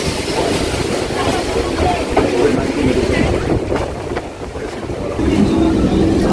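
A Kolkata local train from Sealdah pulls into Ballygunge station with a steady, loud rumble of wheels and carriages, faint rail clatter and wind buffeting throughout.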